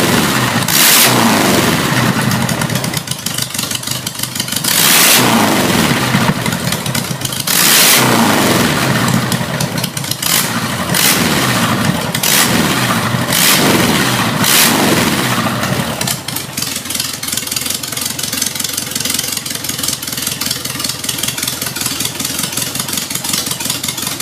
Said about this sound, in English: the bench running of a Porsche 914 4-cylinder